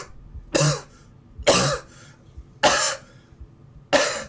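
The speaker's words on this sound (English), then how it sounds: "see coughing just starts to echo throughout the void." Four separate coughs, fairly loud and evenly spaced about a second apart, each a harsh burst with nothing else between them, heard in a dark tabletop horror role-play scene.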